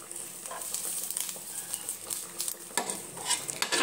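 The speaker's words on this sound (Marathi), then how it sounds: "आपण आता यात थोडंसं जिरं घालूया आणि यालाही थोडंसं शेकून" Onion and cumin seeds roast in a pan, giving a soft, crackling sizzle broken by scraping stirs of a spoon against the metal, close and fairly quiet.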